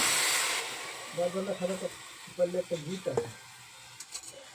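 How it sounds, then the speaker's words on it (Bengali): Strained tomato hits a hot wok heated over a gas flame, giving a bright, hissing sizzle that is loudest at first and then settles, with a voice talking over the middle part. "গ্যাসে কড়া চাপিয়ে দিয়েছি, কড়াটা গরম হয়ে গেছে। এখন টমেটোটাকে দিয়ে দেবো।"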